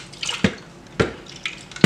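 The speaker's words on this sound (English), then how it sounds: "I'm gonna add my water to this to rinse it out so I can get all that stuff" Water poured from a glass into a container to rinse out leftover pudding and souse ingredients, heard as a few separate splashy bursts close by with quiet gaps between them.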